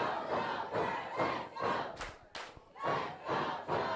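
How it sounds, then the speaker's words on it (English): Wrestling crowd at a Bluff City Wrestling show chanting and cheering in rhythmic waves, with two sharp thuds from the ring partway through. "Now we got the crowd cheering for Joker."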